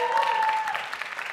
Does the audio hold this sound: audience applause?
yes